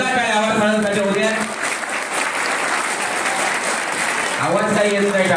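A children's audience at a children's literary gathering claps in a dense, steady round of applause for the guest. Someone speaks over the start and again near the end.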